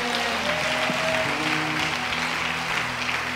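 A church congregation applauding the Lord, a steady wash of clapping from a large crowd that holds evenly throughout, with a faint sustained tone underneath.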